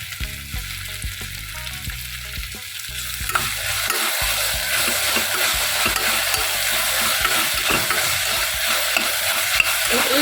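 Ingredients for ghee rice sizzle and fry in a hot pan while a spoon stirs them, with a steady crackling hiss and repeated scraping knocks.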